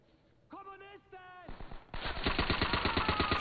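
Rapid automatic gunfire from the video game Call of Duty: World at War, preceded by a few sharp single shots, then a dense, loud burst of sustained machine-gun fire in a steady stutter.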